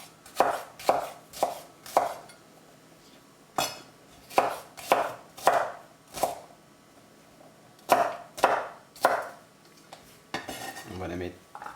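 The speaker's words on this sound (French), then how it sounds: "on va rajouter une échalote, une petite échalote. On va venir la hacher grossièrement." A small shallot is coarsely chopped with a knife on a board, giving a series of crisp, close knocks in uneven bursts with short pauses, ending with a brief scraping of the pieces.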